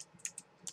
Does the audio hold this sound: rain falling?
no